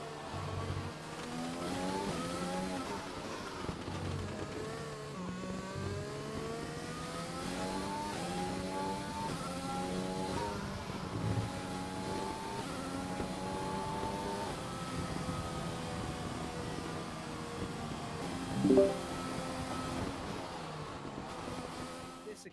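Formula 1 race cars lap the Singapore circuit in a PC racing game, several engines whining and revving with climbing and falling pitch, a continuous layered drone throughout with no voices.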